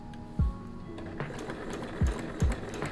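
A sewing machine stitches a half square triangle quilt block, its motor whirring steadily with a few soft mechanical thumps, close and fairly quiet, with no talking.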